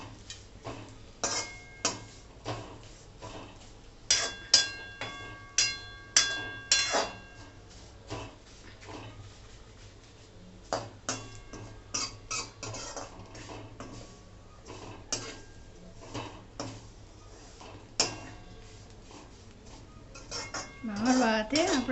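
Vermicelli being roasted in ghee is stirred gently in a metal pan, giving repeated light clinks and scrapes of a spoon against the pan in an irregular rhythm.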